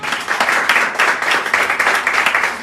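Congregation applause at a Spanish-language church service, dense steady clapping with rhythmic surges, loud and close, filling the whole moment without speech.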